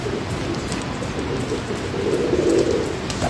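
Pigeons at their coop, where one bird slips inside gathering straw for nesting, give a low, steady cooing murmur close by against a constant hiss of background noise.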